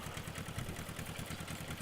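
A tractor engine chugs at a steady, rapid, throbbing rhythm in Farming Simulator 15, a low mechanical pulse with no voices.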